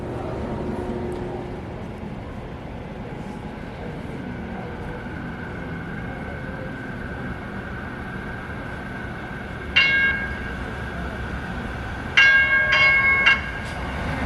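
A two-car commuter train rolls into a station, a low steady rumble building under ambient noise, then bright metallic squeals and brake screeches come in short bursts near the end as it slows to a stop.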